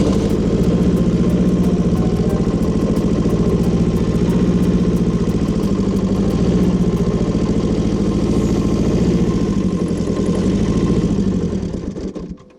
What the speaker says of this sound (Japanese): はい、エンジンかけるんですけど、